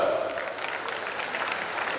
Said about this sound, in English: We must applaud.